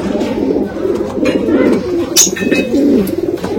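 A Rampuri pigeon coos close by, with a low burbling series of rolling coos repeating steadily and a brief brighter chirp partway through.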